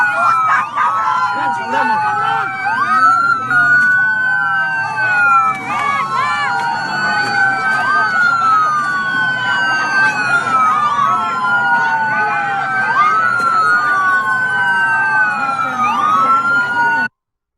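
A siren wails continuously in the background during a street riot scene, its rising and falling sweeps repeating steadily for the whole stretch over a dense layer of crowd noise and voices.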